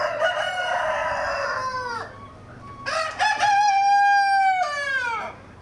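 A rooster crows loudly, twice in succession, with hens clucking nearby in between, on a poultry farm.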